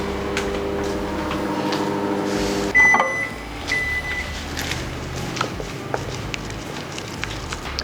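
A microwave oven runs with a low, steady hum while melting chocolate for homemade ice cream. The hum stops abruptly partway through, followed by a short beep, a clunk and some light handling noises.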